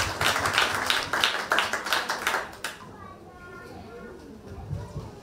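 A church congregation claps in a quick, lively rhythm for about two and a half seconds, then the applause stops and quieter voices and room sounds follow.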